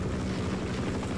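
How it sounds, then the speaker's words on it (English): Helicopter flying in the Half-Life video game, a steady low rotor drone with a rhythmic chop, moderately loud and alone. "avoiding this helicopter"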